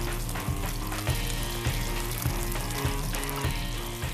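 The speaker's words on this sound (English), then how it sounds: "Just before the olive oil starts to smoke, sea bass in." Sea bass fillet laid skin side down in hot olive oil in a pan sizzles steadily, a close, even frying hiss with small regular crackles and pops and no talking.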